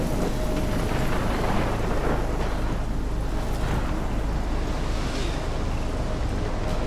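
Thunderstorm in the video game Life Is Strange: a loud, steady roar of heavy rain with deep rumbling thunder rolling underneath throughout, with no voices.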